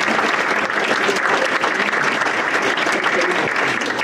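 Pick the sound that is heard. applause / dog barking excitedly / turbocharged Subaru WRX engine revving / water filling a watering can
applause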